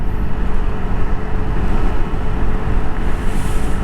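A Lambretta X300 scooter is ridden on a trip, with a steady, loud engine drone and heavy wind rush filling the whole stretch and no voices.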